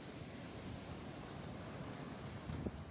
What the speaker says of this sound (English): This is the sea.